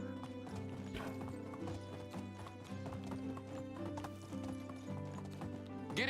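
Horse hooves clip-clop steadily in the video game Medieval Dynasty, a close rhythmic trot over game music with a brief whinny-like tone near the end.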